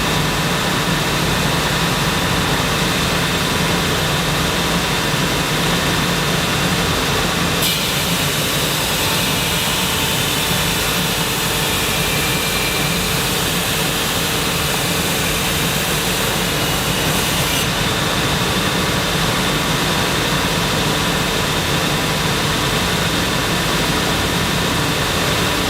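A C150 floating head finishing machine runs loud and continuous, a dense roaring hiss with a brighter grinding band while stainless steel rectangular tube passes through, then easing back to the steady running drone.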